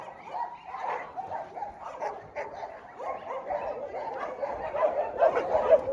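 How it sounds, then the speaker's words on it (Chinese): Several excited dogs bark and yip at a mountain home, a continuous overlapping chorus of barks and whimpers at close to moderate distance, rising toward the end. "咱们家园的狗狗只要一有人来就激动"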